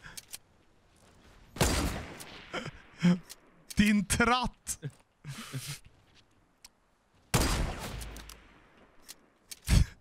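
Gunfire from the Fortnite video game crackles in several short, sharp bursts, loud and close, scattered between excited voices talking over the action.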